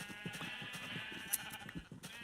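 Sheep bleating in the video game Minecraft, several short bleats layered over a steady background hum, moderately loud with no talking.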